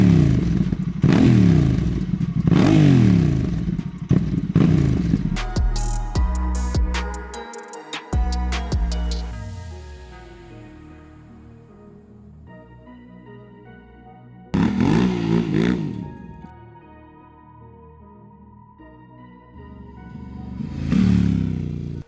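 A Honda Africa Twin 1100 motorcycle being ridden, its engine revving and rising through the gears loudly at first, then easing off before surging again near the end.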